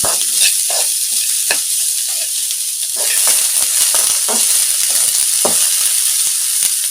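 Capsicum and vegetables sizzle steadily in a hot pan while a utensil scrapes and stirs through them in irregular strokes, close up.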